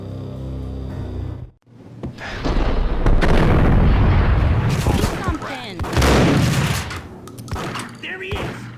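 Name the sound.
gunfire in the video game Max Payne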